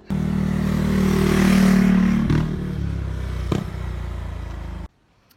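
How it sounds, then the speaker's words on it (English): A motorbike engine rumbles loudly nearby, its drone swelling and then holding steady with a few clattering knocks before cutting off abruptly near the end. "think a motorbike is coming."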